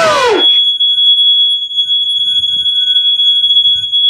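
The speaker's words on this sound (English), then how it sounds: "The alarm just went off." Home fire alarm going off indoors, a loud steady piercing high-pitched tone that holds without a break, with a brief swept chirp at the start and faint voices underneath.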